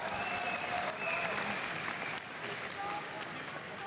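Crowd at the EVO fighting-game esports event applauds and cheers continuously, a dense wash of clapping and shouts heard throughout at moderate distance.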